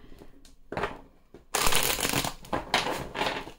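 Oracle cards from a mirror-themed deck being reshuffled by hand, a soft riffling and crinkling that starts quiet and turns louder and denser partway through, with no voices.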